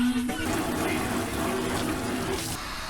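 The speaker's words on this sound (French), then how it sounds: "j'en passe vite fait la douche, sur l'endroit là précis, en essayant de le moins de flotte possible" Shower water spraying and rinsing a spot on a screen-printing frame while preparing to print a tote bag, a steady broadband hiss of running water lasting throughout, close and fairly loud.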